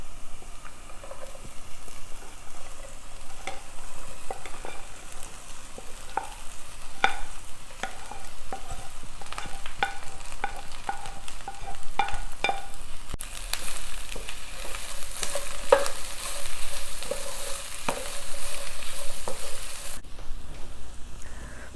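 Cut okra with onions frying in a pan, a steady sizzle carrying throughout with repeated scraping stirs and light taps of a utensil, growing brighter and hissier in the second half.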